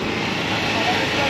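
A motorcycle engine idling during a stunt-riding session, giving a steady, continuous rumble with a broad, even noise that stays level throughout the short stretch.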